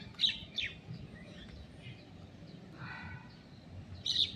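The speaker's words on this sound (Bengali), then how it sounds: "দুটো শালিক দেখতে পাবে তোমরা, তারা ওই দেখো বসে রয়েছে" Common myna birds call in the early morning, a few sharp chirps and squawks at moderate distance over a low steady background hum, with a brief burst near the end.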